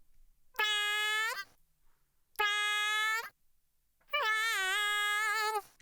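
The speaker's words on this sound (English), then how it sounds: "what we're doing here is independently controlling the throat length without affecting the pitch" Sung vocal processed with a throat-length formant effect that alters its timbre while the pitch stays fixed, heard as three separate sustained notes, the last one wavering, with short silences in between.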